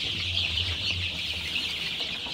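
Young Sonali super hybrid chicks on their eighth day cluck and cheep steadily in a rearing shed, a continuous busy chatter close by with a low background hum.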